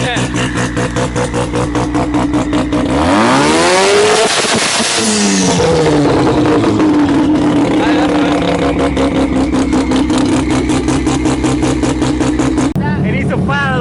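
A turbocharged drift car with anti-lag, prepared at a drift competition qualifying day, revs hard and continuously, its loud engine rising and falling with popping bursts while people talk nearby.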